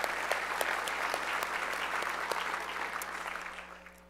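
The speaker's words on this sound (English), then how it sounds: "I just like to give them thanks with a little round of applause here." Conference audience giving a round of applause at a plenary session, dense steady clapping across a large room over a low hum, fading out toward the end.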